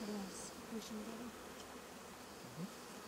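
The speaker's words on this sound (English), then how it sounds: "there's too many bees on the bottom here" Bees buzz close by in brief, wavering passes over a faint steady background, with no voices.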